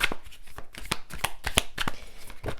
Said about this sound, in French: je vais vous tirer une troisième carte